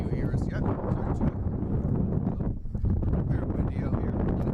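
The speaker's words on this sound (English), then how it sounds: "Extremely windy. No, just too windy." Strong gusts buffet the microphone at an outdoor high school varsity baseball field, giving loud, continuous rumbling and flutter, with a voice talking over the roar.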